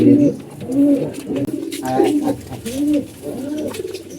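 Pigeons coo in repeated low, rolling phrases close by, several calls in steady rhythm over about four seconds, with faint background noise.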